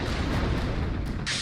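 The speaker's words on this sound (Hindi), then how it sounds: "रूसी सेना भारी तोपखाने से लगातार हमले कर रही है।" Heavy artillery fire in wartime footage from Russian shelling in Donetsk, Ukraine: a dense, continuous low rumble of booms and distant blasts, loud and steady throughout with no talk.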